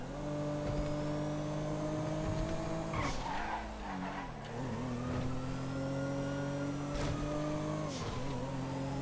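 Race car in GTA lapping a track, a loud steady engine drone with shifting pitch, squealing tires through corners around the middle, and bursts of revving acceleration, with no talking.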